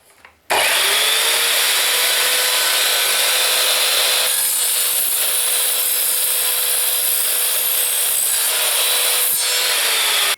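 An Evolution R210CMS mitre saw slices through copper pipe, a sudden loud, high, sustained whine of the blade biting metal that runs continuously after a brief quiet start, with no talking.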